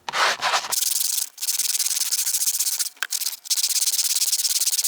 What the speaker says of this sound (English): And you're supposed to scrub it in.